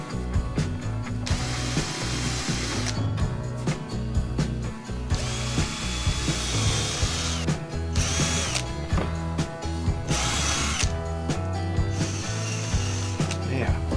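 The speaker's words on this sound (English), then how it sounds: "the other thing I've got to do is put in nail holes. So we get the old trusty old drill out" A power drill bores nail holes into a wooden piece in repeated short bursts, the motor whining up and stopping between holes, close and clear with a few clicks and handling noises in the gaps.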